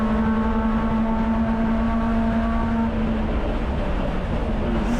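A 1969 BMW 2002 race car's engine drones steadily from inside the cockpit during a road-course race, a loud, constant tone with a strong low hum and no voices.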